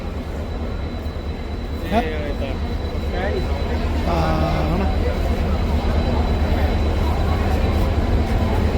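A train runs steadily with a continuous low rumble and rolling noise throughout, while people talk intermittently over it up close.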